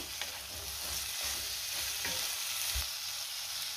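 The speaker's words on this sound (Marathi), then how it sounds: "आता हे सगळं आपण व्यवस्थित मिक्स करून घेऊया" Dhaba-style paneer masala with kasuri methi and salt is stirred in a pan, a continuous sizzle with a few low scraping thumps from the spoon against the vessel, close and alone without talk.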